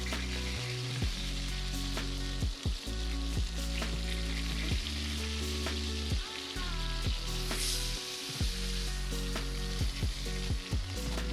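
Butterflied lamb sizzles steadily in a pot over a camp cooking fire outdoors, a continuous close frying hiss with scattered crackles and pops throughout, no talk.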